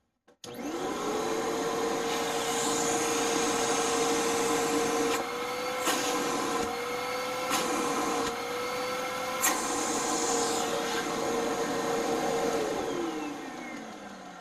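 A Simplicity Symmetry vacuum cleaner runs at full suction, its loud steady whine and roar holding for over ten seconds, with a few brief knocks and bumps partway through before the motor winds down near the end.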